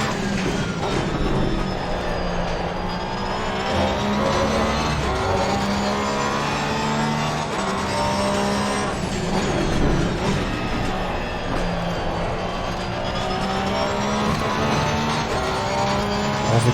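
A Porsche race car at Brands Hatch in Assetto Corsa Competizione, set up with high downforce, its engine droning loud and continuous with rising and falling pitch through gear changes, with faint tire noise.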